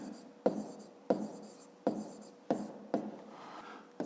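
Handwriting on paper during a math lesson, a pen making about seven short scratchy strokes with brief pauses between, close and faint, with no talking.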